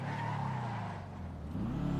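A car in a video game skids with a drawn-out tire squeal over steady engine drone, loud and continuous for about two seconds, the pitch bending upward near the end.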